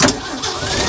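A 1966 Ford Econoline engine starts close by, with a brief catch followed by a steady mid-pitched running rumble that holds loud and even to the end.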